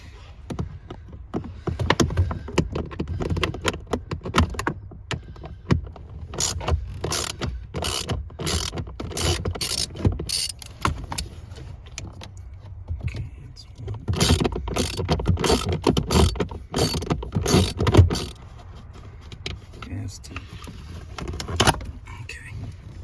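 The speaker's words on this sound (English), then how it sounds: "We have a ratchet, extension, and 8mm socket." Ratchet with an extension and 8mm socket backing out screws on a 2005-2009 Ford Mustang blower motor resistor, giving bursts of rapid clicking close up, with pauses and handling noise between.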